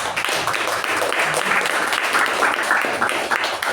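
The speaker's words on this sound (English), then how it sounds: "First, give us a huge round of applause." A room of attendees at a meeting gives a round of applause, dense steady clapping that holds for several seconds without a break.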